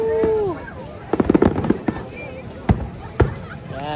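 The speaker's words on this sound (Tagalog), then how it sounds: "Mukhang mahaba-haba ito na fireworks display." Fourth of July fireworks display outdoors in the U.S., with a whistling rocket followed by a cluster of crackling pops and several sharp booming bursts, heard amid crowd voices and chatter.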